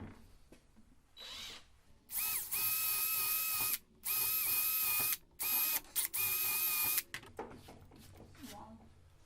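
A power drill bores holes in wood for a cheap duck house, sounding in four loud whining bursts of one to two seconds separated by short pauses.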